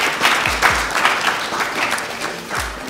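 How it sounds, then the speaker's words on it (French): An audience claps at a live talk-show event in a steady, fairly loud round of applause throughout. "On va l'applaudir très fort"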